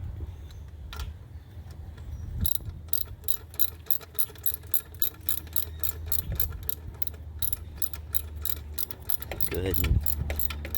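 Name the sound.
ratchet tightening a bolt on an alternator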